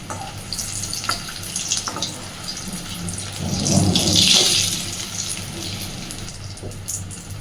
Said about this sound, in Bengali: মিডিয়াম ফ্লেমে আস্তে আস্তে ঘুরিয়ে ঘুরিয়ে রোলগুলোকে আমি ভেজে নেব।